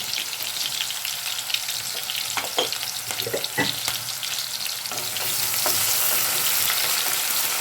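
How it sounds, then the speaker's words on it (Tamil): Chopped onions with a pinch of salt sauté in a hot pan for a Tamil chickpea curry, giving a steady close sizzle with scattered stirring clicks that swells louder and brighter partway through. "வெங்காயம் நல்லா வதங்கி வரட்டும்"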